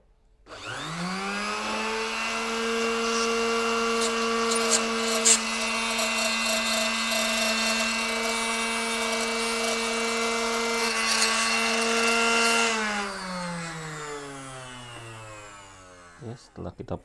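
A power tool spins up and cuts a Pandarus Elite CA320 arrow shaft for a compound bow, a steady loud whine with harmonics holding for about twelve seconds before winding down, with brief clatter at the end.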